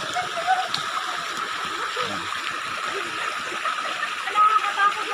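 A waterfall on a river, the fourth along its course, pours with a continuous broad hiss and rush of water, while voices speak faintly underneath.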